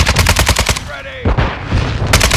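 Automatic gunfire in the shooter game Modern Warfare 2022, loud rapid bursts of shots with a brief lull in the middle before firing resumes, close and dense.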